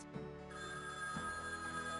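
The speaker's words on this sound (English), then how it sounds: "Phone's ringing." Telephone ringing in the adventure video game Gabriel Knight: Sins of the Fathers, a clean electronic ring tone that starts after a short click and sustains steadily, fairly quiet, with no talking.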